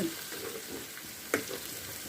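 Onion and drumstick pieces cooking together in a pan, a steady low sizzle and bubbling that stays even and close throughout, with one brief sharper pop near the end.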